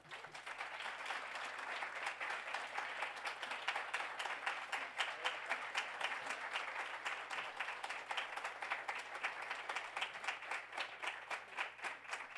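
An audience applauds the governor at a 2020 Census summit, a long, even wash of many hands clapping that holds steady at a distance, with no voices over it.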